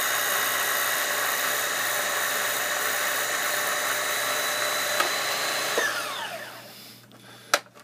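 A Pfaff Classic Style sewing machine stitching at speed, a steady high mechanical whine held close and loud for several seconds, then winding down with a falling pitch and stopping, followed by a sharp click.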